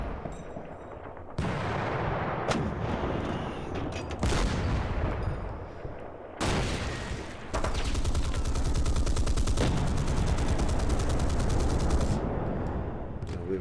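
Tank destroyers fire on enemy tanks in the Panzer Campaigns Kiev '43 wargame, a steady run of loud gunfire and bursts that thickens into dense, rapid volleys, with sharp individual shots standing out over constant battle noise.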